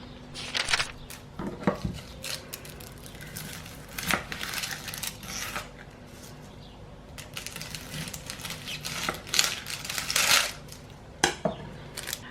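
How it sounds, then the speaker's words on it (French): An onion being peeled by hand in a home kitchen while preparing chili con carne, with close, irregular papery crackles and small clicks and knocks scattered through the clip, and no talking. "Je n'ai juste qu'épluché mon oignon."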